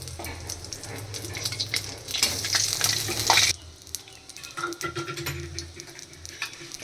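Bay leaf, dried chili, three cardamom pods and cinnamon sizzle in a small amount of hot oil for a potato and pea curry, a steady frying hiss that crackles louder for a few seconds and then settles, with the occasional clink of a stirring utensil.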